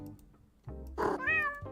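A cat meows twice, close and clear, with a longer drawn-out second call, over a faint background hum.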